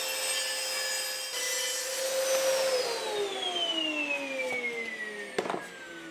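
A circular saw runs along a track, cutting through 18mm plywood. The steady whine holds throughout, its pitch sagging midway as the blade loads in the wood, with a brief knock near the end.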